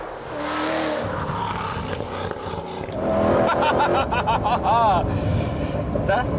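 A powerful Ford GT sports car engine roars and revs close by, rising in pitch as it accelerates, with a voice talking over it.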